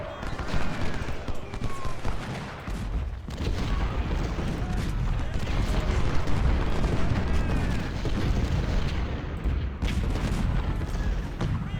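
Artillery fire in Ultimate General: Civil War during the Mansfield battle, a dense continuous rumble of booms and crackling volleys, loud and unbroken, with someone talking over it.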